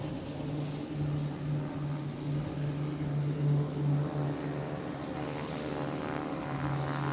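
A Cape Air propeller plane departs Boston Logan for Rutland, its engines giving a steady droning hum with a strong low tone, moderately loud and constant.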